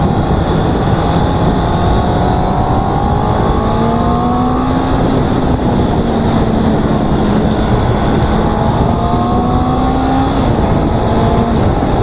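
A 2021 Honda CB650R BS6 four-cylinder motorcycle is ridden hard, its engine note climbing through the revs in rising sweeps. Loud, constant wind blast nearly buries the engine.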